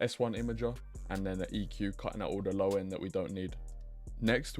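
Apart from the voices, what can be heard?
No everyday noise stands out behind the speech.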